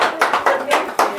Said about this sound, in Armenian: մի հատ ծափեր տվեք էլ